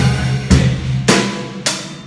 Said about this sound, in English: we're having a crash symbol on beat 1, which it will sound like this.